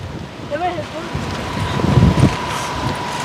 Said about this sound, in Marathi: वारं चाललंय इड आता आवाज आहे त्याला काय करणार आहे